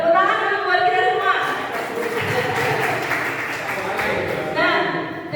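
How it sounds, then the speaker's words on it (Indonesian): An audience at a positive-culture dissemination workshop claps briefly. A short burst of applause rises between stretches of talking. "Tepuk tangan dulu buat kita semua."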